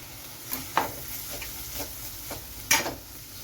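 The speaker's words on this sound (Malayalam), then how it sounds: "ആ പേസ്റ്റ് കൂടി ചേർത്ത് നമുക്ക് ഈ ഇഞ്ചി വെളുത്തുള്ളി പേസ്റ്റിൻ്റെ പച്ചമണം മാറുന്നിടം വരെ നമുക്കൊന്ന് ഇളക്കി കൊടുക്കാം" Ginger-garlic paste frying with onions in a pan for a mushroom curry, stirred with a few sharp scraping strokes over a steady soft sizzle, close by with no talking.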